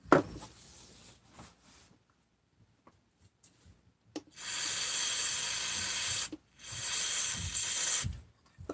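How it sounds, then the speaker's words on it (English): Brake cleaner hisses from an aerosol can into a Husqvarna 394XP chainsaw, two loud sustained bursts of spray separated by a short pause, following quiet clicks and handling noises. "Brake cleaner in here to break this up."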